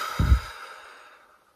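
A single slow exhale during a relaxation exercise, a soft, close breath out that fades gently under a sustained calm musical tone.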